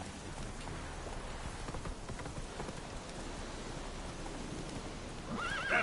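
Roach, the horse in The Witcher 3, gives a sharp whinny near the end over a steady bed of rain and hoof clatter.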